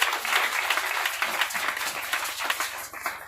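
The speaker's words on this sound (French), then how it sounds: "Acclame pour Jésus." A congregation at a prayer and deliverance service applauding, a dense sustained patter of many hands clapping at moderate distance for a few seconds.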